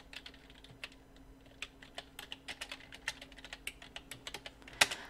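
Computer keyboard typing during Illustrator shortcut work for a GTQ exam exercise, a run of quick, fairly close key clicks and taps with short pauses, one louder stroke near the end, no voices.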